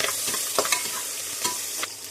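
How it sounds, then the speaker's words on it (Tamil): Steady crackling sizzle of green chilies, cinnamon and cloves frying in hot oil for vegetable biryani, with a few louder pops and stirring scrapes throughout. "இப்போ தாளிக்க போகிறேன்"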